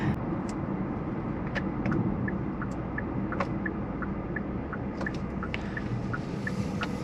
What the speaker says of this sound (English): we're going to the township just to try the slow speed driving